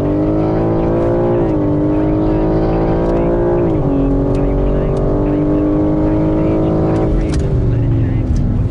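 A BMW M3 Competition G80 accelerates hard on a race circuit, its loud engine climbing in pitch and then dropping at a few gear changes, while a voice speaks over the roar.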